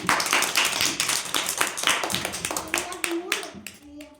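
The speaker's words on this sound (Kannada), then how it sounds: "ವೆರಿ ಗುಡ್ ಚಪ್ಪಾಳೆ ತಟ್ರಿ" Children clap their hands in a classroom game, producing a dense burst of fast, overlapping claps that thins into scattered last claps toward the end, with voices heard over it.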